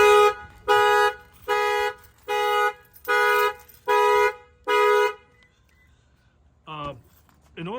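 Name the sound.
window knock triggering truck alarm and horn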